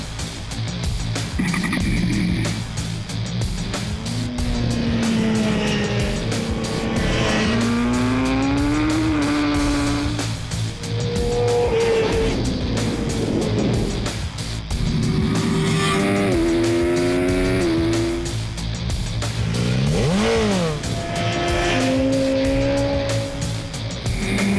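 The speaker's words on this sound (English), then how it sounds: "Sheridan, looks like you're enjoying yourself out there on this S1000R so-called street bike" A BMW S1000R motorcycle ridden hard on a track, its engine loud and constant throughout, revving up and down through the gears and rising in pitch again and again.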